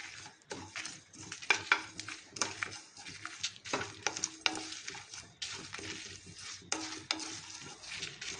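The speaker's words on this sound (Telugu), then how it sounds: "ఇవన్నీ కలిపి లో ఫ్లేమ్లో మాత్రమే వేయించుకోవాలి" Dried red chillies, sesame seeds and spices frying over a low flame in a pan, with soft sizzling and irregular spoon strokes scraping and stirring, fairly quiet and close, with no voices.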